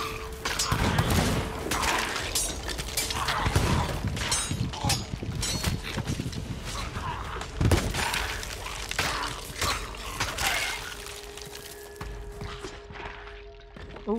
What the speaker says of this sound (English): Love it when my bullets hit red skeletons.